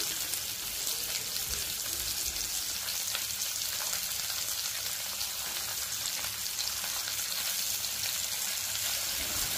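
Sliced onions frying in oil in a pan with potato and whole cumin seeds, a steady close sizzle and crackle that holds evenly throughout with no talking.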